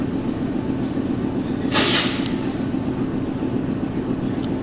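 A train approaching on the loop line of a single-track railway station on the Lahore to Rawalpindi route, a steady low rumble with a brief bright hiss burst near the middle, no voices.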